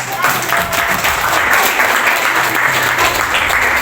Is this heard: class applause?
yes